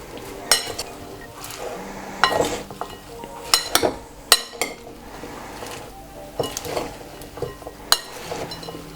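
Olive oil and lemon juice being mixed in a bowl for a salmon dinner: a series of sharp clinks and scrapes from utensil against dish, in irregular bursts about a second apart, close by, with no talk.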